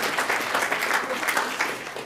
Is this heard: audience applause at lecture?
yes